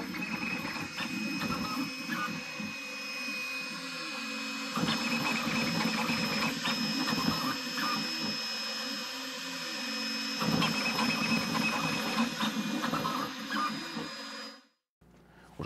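A 3D printer runs steadily in a workshop, its stepper motors whirring and buzzing in shifting patterns with a constant high fan tone, then stopping abruptly near the end.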